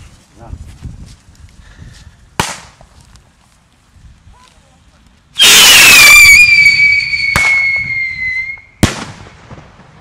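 New Year's Eve fireworks set off outdoors during a wagon tour, sharp single bangs followed by a loud whistling, screeching rocket burst lasting a few seconds, close and loud, with voices heard around it.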